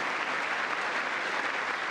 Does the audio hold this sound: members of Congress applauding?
yes